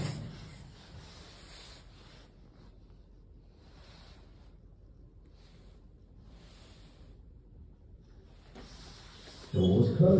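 A 1998 Otis 2000 VF lift, modernised by Kone, descends at the Oracle shopping centre in Reading, giving a quiet, steady low rumble with faint airy hiss and a sudden louder low thump at the very end.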